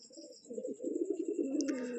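Pigeons coo softly and continuously at a pigeon farm, a low rolling murmur of several birds close by, with a brief brighter chirp near the end.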